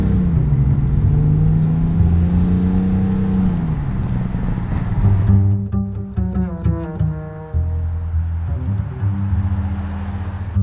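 A BMW X5 engine pulls hard under acceleration, a loud rising growl that climbs through the revs, then eases as the automatic gearbox shifts, followed by lighter engine drone and road noise.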